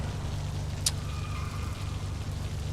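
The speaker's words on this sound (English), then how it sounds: "And it's raining. Of course it is, because it's Need for Speed Underground 2." Steady rain falling in the video game Need for Speed Underground 2, an even wash of noise throughout with a brief sharp tick partway and a faint tonal hum beneath, no voices.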